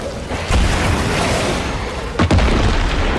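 Pipe bomb blasts in the zombie survival game State of Decay 2: a loud booming explosion followed by a second sharp burst with a rumbling tail, no talking.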